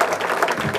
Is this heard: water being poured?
no